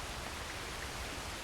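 Steady rain in the open world of Red Dead Redemption 2, a dense even hiss of falling drops with no breaks, fairly faint and continuous throughout.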